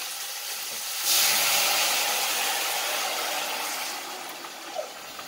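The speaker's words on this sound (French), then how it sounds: "C'est environ un verre d'eau que je vais ajouter" A glass of water hits a hot pan of pork with garlic and ginger, and a loud steam hiss surges up suddenly, then slowly fades into a softer, steady sizzle with a small pop near the end.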